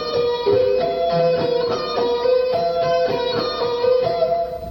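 Electric guitar playing a rock lick slowly with a barre, hammer-ons and pull-offs, a steady run of clean, close notes in a smooth repeating pattern.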